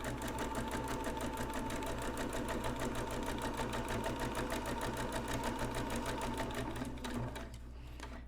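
A sewing machine stitches along the edge of canvas cloth in a fast, even, continuous run of needle strokes, close and steady before easing off at the very end.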